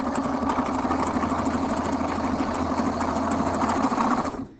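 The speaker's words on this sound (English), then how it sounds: "this is a self-stitching sewing machine" A self-feeding sewing machine runs steadily at speed through fabric, its rapid mechanical stitching hum continuous and close, then slows and stops at the end.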